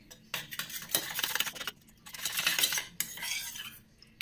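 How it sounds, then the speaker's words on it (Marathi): A spoon stirs cornflour into milk for homemade vanilla ice cream, scraping steadily against the vessel in bursts of brisk mixing with short pauses, close and fairly loud, with no talking. "मी आता 1 चमचा कॉर्नफ्लॉवर टाकून घेणार आहे आणि याला छान असं मिक्स करून घेणार आहे"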